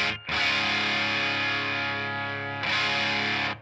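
An electric guitar runs through a Rat distortion pedal modded with LED clipping diodes: two loud, dense, fuzzy sustained chords, the second struck after a short dip, both ringing out fully saturated.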